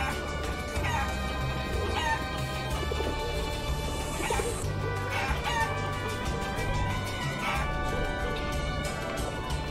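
Chickens in the video game Guacamelee cluck steadily and crow now and then, clear and close, layered over soft game background sounds with no voices.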